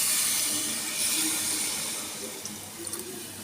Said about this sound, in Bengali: এখন আমি সামান্য পানি দিয়ে দিব।